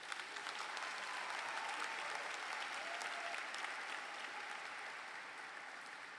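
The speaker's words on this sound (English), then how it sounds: "So give them a round of applause." Audience at a university graduation ceremony applauding, a dense steady wash of clapping from a large crowd that holds for several seconds before easing slightly.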